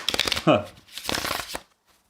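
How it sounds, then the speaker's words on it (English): A deck of tarot cards is riffled and shuffled close by in quick fluttering bursts, a brisk rapid rattle followed by a second run of shuffling before falling quiet. "I just saw the 10 of Cups there as I was shuffling the deck"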